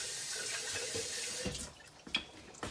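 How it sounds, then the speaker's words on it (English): Tap water runs steadily into a sauce jar being rinsed at a kitchen sink, with splashing and a few sharper clinks and sloshes near the end, close and fairly quiet. "I'm gonna rinse the jar more."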